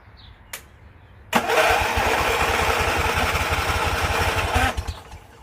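A hot rod tractor engine is started with the choke on: a short click, then the engine catches abruptly and runs loud and near with a fast, rough, pulsing idle for about three seconds before cutting off.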